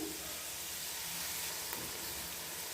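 Onions or aromatics sautéing for tomato rice in a pan on medium heat, giving a steady, soft, even sizzle and hiss that carries on alone without a break.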